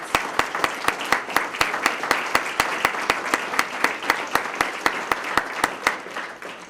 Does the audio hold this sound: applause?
yes